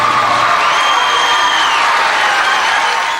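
An overflow crowd at a contentious high school auditorium meeting roars continuously with cheering, whooping, jeering and clapping, a dense, loud wall of many voices that holds steady throughout.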